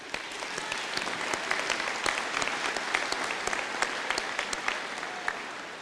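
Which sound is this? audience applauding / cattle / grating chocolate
audience applauding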